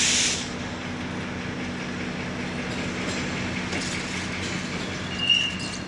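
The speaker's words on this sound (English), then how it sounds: "As the train crosses over Mission Boulevard, it leaves the UP's Canyon subdivision" An ACE commuter train rolls across Mission Boulevard, a steady broad rumble and hiss of wheels on rail holding at an even level, with a brief high squeal near the end.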